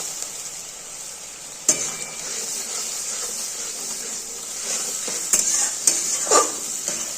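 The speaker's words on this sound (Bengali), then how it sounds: "আমি এখানে পরিমাণ মতো দুধ দিয়ে দিলাম" Aubergine and bitter gourd fry in a pan as milk goes in, giving a steady hissing sizzle with a few sharp scrapes and clinks of stirring, close and with no talk.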